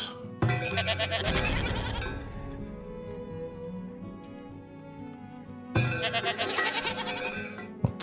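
Goats bleat in the farming village of the survival-strategy game Farthest Frontier, with two clear bursts of overlapping cries, one near the start and one near the end, separated by a quieter stretch of background game ambience.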